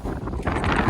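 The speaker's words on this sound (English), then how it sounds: "It's like really windy right now too." Strong wind on Jeju Island, South Korea, buffets the microphone in a loud, rough roar that swells toward the end of a brief moment.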